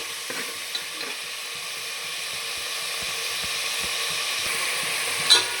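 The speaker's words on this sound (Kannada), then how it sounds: "ಫ್ರೈ ಮಾಡ್ಕೊತಾ ಇದ್ದೀನಿ ನೋಡಿ, ಈ ಎಣ್ಣೆಯಲ್ಲಿ" Chili powder and ground masala frying in hot oil for mutton keema sambar, a steady soft sizzle with a few faint stirring scrapes and a brief clatter near the end.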